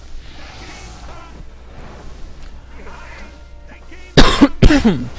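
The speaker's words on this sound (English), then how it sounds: "I'm sorry, I don't like to cough on the mic." Two sharp, loud coughs close to the microphone near the end, following several seconds of quiet background sound.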